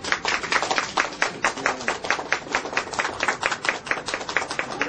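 A wedding audience bursts into sustained, dense applause at a civil-style ceremony led by a robot officiant. The clapping is loud and steady and carries on without a break.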